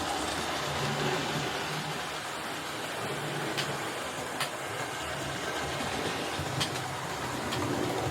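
Bachmann model Class 4MT locomotive running on a model railway layout, a continuous close rumble and whirring with faint rhythmic clicks from the track, steady in level with no speech.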